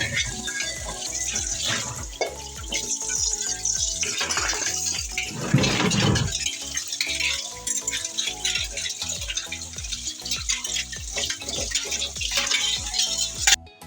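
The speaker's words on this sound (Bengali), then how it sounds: "থালাবাটিগুলো মেজে নিয়েছি, এখন ধুয়ে নেব" Running water splashes over freshly scrubbed plates and bowls in a kitchen sink, a continuous close gush with irregular clatters and knocks as dishes are handled and rinsed.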